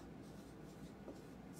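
A pen scratching across paper in a quiet room, a brief soft steady scribble with no speech.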